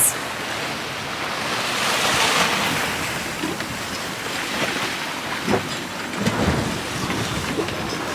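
Broad, steady wash of ocean rollers heard from a sailboat under way in about 12 knots of wind, with a continuous surf-like hiss that swells and eases, plus a few brief splashes against the hull.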